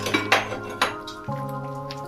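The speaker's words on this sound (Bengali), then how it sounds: "এই অবস্থায় আমি পনিরগুলো দিয়ে দেব।" Paneer pieces dropped into a pan of cooked-down spinach for palak paneer, a few clinks and knocks of a utensil against the pan followed by a low ringing hum, close and without speech.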